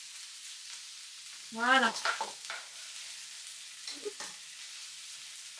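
Shallots fry in a hot pan with a steady, close sizzle and crackle throughout, and a voice briefly speaks over it partway through.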